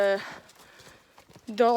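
A horse's hooves clip-clop as it trots alongside a person on foot, a brief run of soft, close steps sitting between stretches of talk at the start and end.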